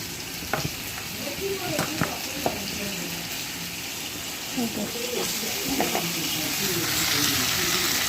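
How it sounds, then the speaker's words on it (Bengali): Prawns dropped into a hot pan for masala chingri, a loud steady sizzle with scrapes and taps of a spatula as they are gently stirred, a voice speaking over it. "এই চিংড়ি মাছগুলো দিয়ে দিলাম। এবারে দিয়ে এটাকে হালকা হাতে নেড়ে চেড়ে নেব।"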